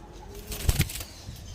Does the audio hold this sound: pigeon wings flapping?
yes